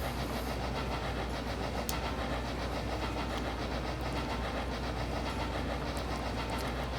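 A train engine runs alongside the Delaware River, a steady rumble with faint rhythmic clatter of cars on the rails, heard from on board without a break and with no talk.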